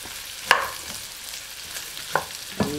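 Miki noodles guisado with pork lechon and chorizo, made spicy, being sautéed in a pan: a faint steady sizzle broken by three sharp utensil scrapes or clinks against the pan, no talking.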